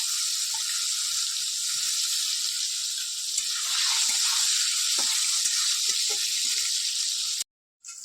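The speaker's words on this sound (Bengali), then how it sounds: "কড়াইতে আমার তেলটা গরম হয়ে গেছে, এর মধ্যে এবার দিয়ে দেবো পনির। পনিরগুলো একটু হালকা করে ভেজে নেব।" Paneer pieces fry in hot oil in a kadai, giving a loud, steady, close hiss of sizzling oil that carries on throughout and cuts out briefly near the end. No voices.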